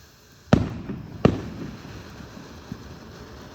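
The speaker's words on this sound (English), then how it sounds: "Alright, there's some fireworks." Fireworks burst outdoors at a Fourth of July display: two loud, sharp explosions about a second apart, each trailing off into crackling rumble, followed by a fainter distant pop over steady background noise.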